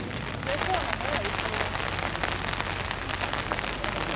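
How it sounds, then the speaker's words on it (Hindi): Rain falls steadily at a beach on Miyajima Island, a dense close patter on surfaces with continuous hiss; a voice is faintly heard underneath. "बारिश भी थोड़ी तेज़ हो गई है।"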